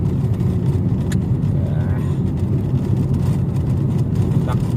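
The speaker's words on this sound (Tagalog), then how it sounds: "nandito na tayo sa EDSA. Sobrang traffic." Dense road traffic on EDSA heard from a moving motorcycle, a steady loud engine and road roar with wind buffeting and a brief faint horn.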